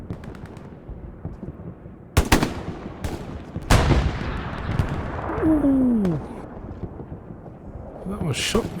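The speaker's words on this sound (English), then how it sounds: "That was shotgun to the chest." Shotgun blasts in an online shooter match, two sharp loud reports a couple of seconds apart followed by further gunfire and game noise, with voices talking over it.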